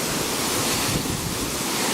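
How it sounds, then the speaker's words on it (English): The Dong Lok Chai waterfall roars as a steady, dense broadband rush, loud and continuous throughout, with some wind buffeting the microphone. "This is Dong Lok Chai, which is some waterfall"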